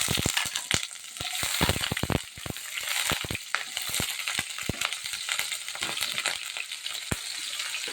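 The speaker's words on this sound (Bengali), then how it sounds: "এই যে তেলটা গরম হয়ে গেছে, এখন আমি আলুগুলি দিয়ে দিচ্ছি তেলের মধ্যে।" Potato pieces frying in hot oil for a Bengali vegetable dish, a steady bright sizzle with dense crackling pops throughout, close and continuous with no talking.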